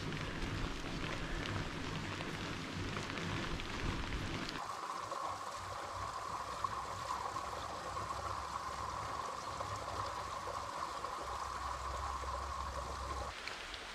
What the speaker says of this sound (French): Il commence à vraiment pleuvoir beaucoup là.